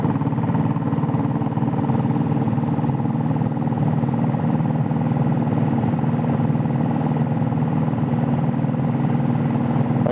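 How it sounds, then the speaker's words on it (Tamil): A restored diesel Royal Enfield Bullet motorcycle engine running steadily with a constant low chugging drone, loud and close, with no voices. "வண்டி இன்ஜின் வேலை தெளிவாக பண்ணிக்குது ஃப்ரெண்ட்ஸ்."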